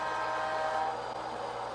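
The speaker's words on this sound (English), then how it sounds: "the train is going around the Rainbow Bridge and turning back on itself" An HO scale model double-stack container train runs on a layout with a steady, even mechanical hum and rumble, close and continuous, with no voices.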